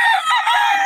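A rooster crows in a short burst, loud and close, with bright harmonic bands holding steady through the call and no talk over it.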